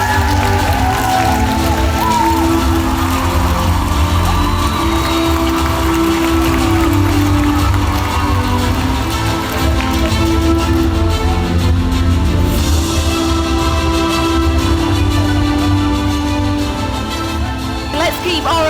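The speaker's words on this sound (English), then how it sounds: "Let's keep our applause going for our fabulous graduates." Audience applause for graduates at an international school graduation ceremony at Atlantis The Palm in Dubai, a steady sustained clapping from a large crowd filling the hall throughout.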